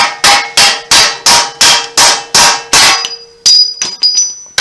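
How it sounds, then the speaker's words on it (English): Hammer and chisel driving off a bolt on a 1977 El Camino rebuild, a rapid series of about eight loud ringing metallic strikes in even rhythm, followed by a few lighter clanks and a metallic ding. "Cutting all 4 of these bolts and then having to chisel them."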